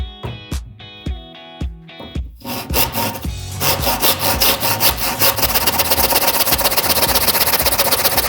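A hand saw cuts wood with a few slow strokes, then settles into fast, rhythmic back-and-forth rasping that grows louder and steadier.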